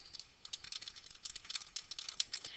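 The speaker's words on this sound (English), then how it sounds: "We're going to type in the name" Quick, faint clicks of keys on a computer keyboard as a name is typed, an irregular patter of light taps heard up close and alone.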